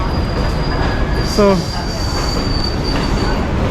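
A train runs loudly on its rails with a steady rumble and a short wheel squeal partway through, and a voice is faintly audible underneath.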